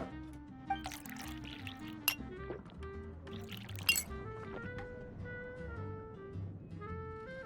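Juice poured into a glass in a video game, a steady liquid trickle with a few bright glass clinks over soft background music, close and fairly quiet.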